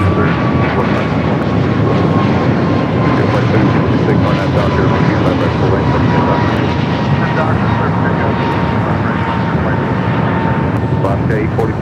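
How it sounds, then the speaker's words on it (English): A loud American Airlines jet bound for JFK roars steadily on departure at LAX, its engine noise filling the whole stretch with a faint rising whine, while someone talks over it. "There's that American flight to JFK."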